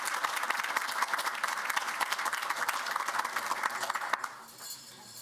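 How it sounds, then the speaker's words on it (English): A board of education meeting audience applauds students, dense steady clapping filling the room for about four seconds before tapering off into quiet. "Please join me in giving them a round of applause."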